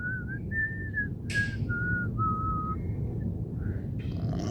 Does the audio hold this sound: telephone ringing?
no